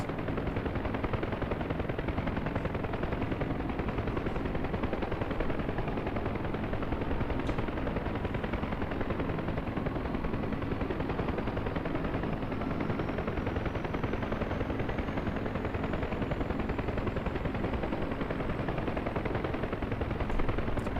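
A UH-1 Huey helicopter engine spinning up in DCS, a dense continuous mechanical rattle and whine with a faint tone that climbs steadily as the RPM builds.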